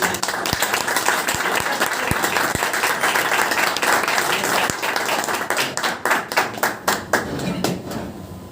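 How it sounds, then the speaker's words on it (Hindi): Audience applause at a company meeting, loud sustained clapping from a crowd that builds and then breaks into scattered individual claps toward the end. "एक बार जोरदार ताली"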